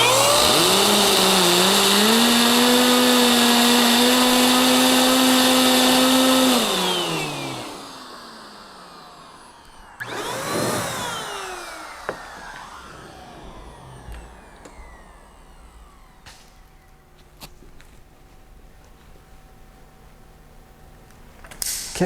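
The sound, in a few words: MaxShine handheld car dryer blowing air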